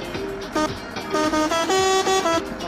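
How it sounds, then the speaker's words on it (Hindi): A truck horn in the Indian Truck Simulator video game honks in several short repeated blasts, loud and close, with no talk over it. "यहाँ पर हॉर्न बजा कर देखते हैं।"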